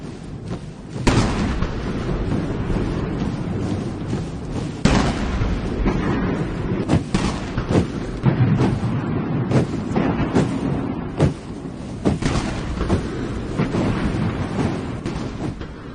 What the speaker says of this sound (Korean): 여든 발의 대포가 발사되는 속에